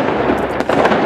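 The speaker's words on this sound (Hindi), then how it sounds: "भाई लगता है वो अपने दुबई का इम्पोर्टेंट पटाखा फोड़ना चालू कर दिया है।" Diwali firecrackers burst nearby in a dense, crackling flurry of sharp pops over a constant hiss, loud and continuous with no voices.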